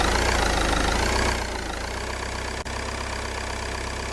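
A steady, droning vehicle engine idles continuously in the Roblox game The Streets, close and loud, with a slight dip in tone partway through and one brief dropout.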